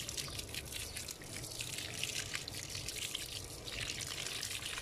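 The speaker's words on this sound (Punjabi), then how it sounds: "ਹੁਣ ਇਹਨੂੰ ਪਾਣੀ ਦਿਆਂਗੇ" Water poured onto a newly planted ridge gourd in home garden soil, a faint, steady trickle and splash lasting throughout.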